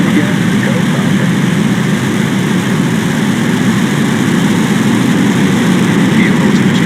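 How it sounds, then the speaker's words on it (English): Falcon 9 rocket engines roar at full power during liftoff, a loud, steady broadband rumble that stays constant throughout, with no talk heard over it. "Engines full power. And liftoff of Falcon 9."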